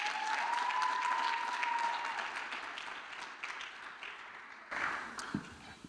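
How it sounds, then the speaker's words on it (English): An awards dinner and gala audience breaks into warm, sustained applause, dense clapping at full strength that gradually eases off, with a whistle near the start and a few voices as it fades. "Give him a round of applause."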